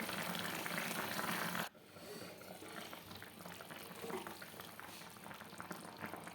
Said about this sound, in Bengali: তো এবার তরকারিটা আমার পুরো ফুটে গেছে